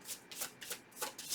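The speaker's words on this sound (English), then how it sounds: "I'm going to shuffle again, you guys" Tarot cards being shuffled by hand, a quick run of crisp riffling bursts repeating in a steady rhythm, close and fairly soft with no talking.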